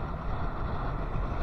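Strong storm wind on a seashore, a loud continuous roaring rush of air buffeting the microphone with no break.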